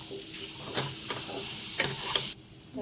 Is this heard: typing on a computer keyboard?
no